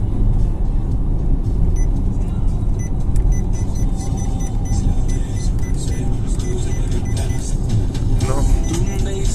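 A Forthing T5 EVO HEV hybrid car runs with a steady low engine drone and rumble, loud and close, holding fairly constant with some clicks and rattles; no talking.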